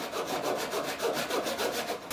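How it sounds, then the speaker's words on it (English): A tenon saw rasps steadily through wood in even back-and-forth strokes, close and continuous, with no voices. "get the bench hook set up with a tenon saw and cut it"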